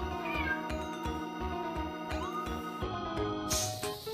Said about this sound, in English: Alexa, meow.